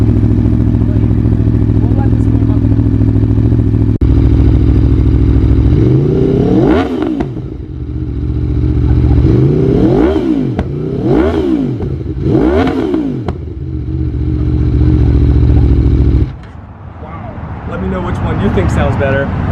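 A loud motorcycle idles close by as it warms up, then a series of about four sharp throttle blips rise and drop, before the engine cuts out and a different rumble follows, with occasional voices over it.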